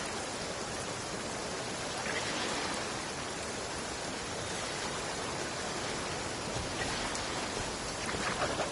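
Steady rain in a video game, a dense, even hiss that continues unbroken and fills the whole scene with no other sounds.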